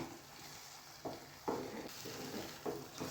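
Beetroot halwa is stirred in a pan, giving a soft continuous sizzle broken by a few scraping strokes of the spoon, quiet and close with no talk.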